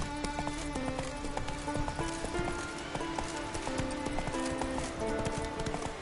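Horse Roach's hooves clip-clop in a steady walking rhythm through The Witcher 3, close and clear over layered game music with an occasional whinny-like note.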